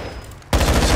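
Automatic gunfire in Call of Duty Modern Warfare 2 raid mode: after a quiet half second, a loud, dense burst of rapid rattling shots starts abruptly and keeps hammering until the end.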